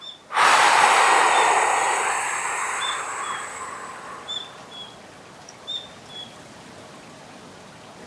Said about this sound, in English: take a full breath in and send it all the way out through your lips